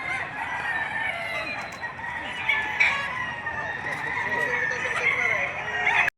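Chickens cluck and a rooster crows amid a busy poultry market in Padre Garcia, Batangas, with fowl calls layered over steady crowd chatter and people talking throughout.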